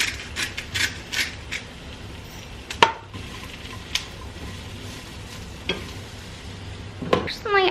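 Food sautéing in olive oil in a pan, seasoned with salt and pepper, gives a steady close-up sizzle and crackle, broken by sharp clicks and scrapes of a utensil stirring, with a brief cluster of clatter near the end.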